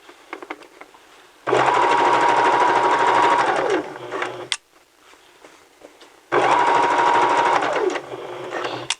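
A sewing machine stitching fabric in two loud, steady bursts of fast mechanical whirring, each a few seconds long, separated by a brief quiet pause.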